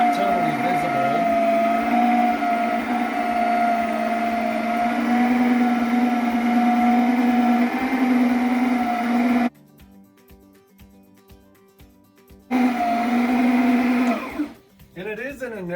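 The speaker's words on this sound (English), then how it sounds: "mix it with the carpet brush, and that brush basically puts the powder into the carpet" A Sebo Duo carpet brush machine whirs as it works cleaning powder into carpet, a loud steady motorized drone with tonal hum that stops abruptly, leaves a quiet gap, then starts again before winding down.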